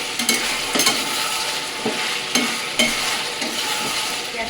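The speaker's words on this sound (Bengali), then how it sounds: "এখন চিকেনের মধ্যে দিয়ে দেবো এক চামচ মতন গুঁড়ো লঙ্কা দিয়ে এটা ভালো করে নাড়াচাড়া দিয়ে" Chicken with a spoonful of chili powder sizzles in a hot pan while a spoon scrapes and stirs it in irregular bursts over a constant frying hiss, close up and with no talking.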